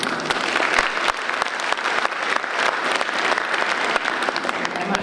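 At a university matriculation ceremony, a large audience claps loudly and steadily throughout, a thick crowd applause with sharp individual claps popping out near the front.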